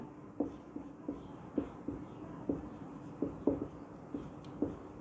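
Chalk or marker taps and strokes on a classroom board during a chemistry nomenclature lesson, about a dozen soft, evenly spaced knocks over a low room hum, fairly faint.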